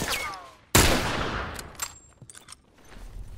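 A rifle shot cracks loudly in The Last of Us multiplayer, a single sharp blast that decays into a long noisy tail, followed by scattered fainter clicks and a few quieter shots.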